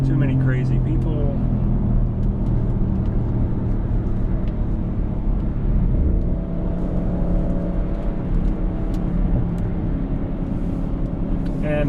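A 2021 Audi C8 RS6 Avant with a RedStar exhaust drones steadily from inside the cabin while accelerating on a highway, a deep continuous engine and road roar with a voice speaking over it.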